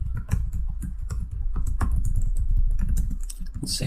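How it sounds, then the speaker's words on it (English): Fast, uneven key clatter from a computer keyboard, close and clear, with bursts of presses and short pauses, no talking over it. "We can type something."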